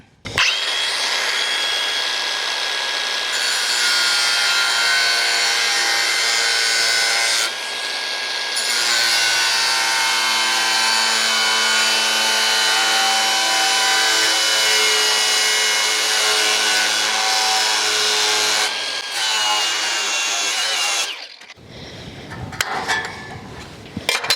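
Power tool with a thin cutting disc slicing through a steel barn frame, a loud continuous high-pitched whine held for about twenty seconds with slight pitch dips, then winding down into scattered clatter.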